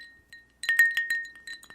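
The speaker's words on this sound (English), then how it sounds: "Clinking ice" Several bright glassy clinks of ice against a glass, a few soft taps followed by a quick cluster of clinks, close and clear with no talking.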